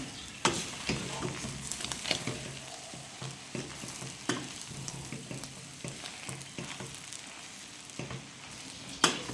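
Green pepper fries in a pan for a homemade meat pie filling, a quiet, continuous crackling sizzle dotted with small pops and stirring scrapes, close by and without speech.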